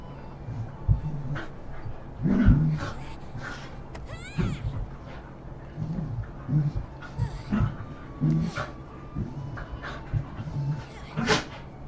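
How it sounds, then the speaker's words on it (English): Two pet dogs play-fight somewhere off in the room, with panting, whimpers and short yips under steady close talk from a man. "you can hear my 2 dogs in the background going at each other"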